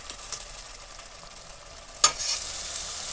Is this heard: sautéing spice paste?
yes